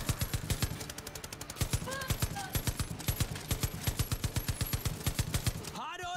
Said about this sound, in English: Look at them shooting away